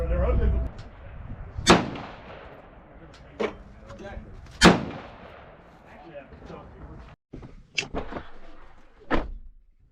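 Loud rifle gunshots from a rifle being sighted in during deer season, about four sharp cracks spaced irregularly over several seconds, with outdoor background and a person talking between shots.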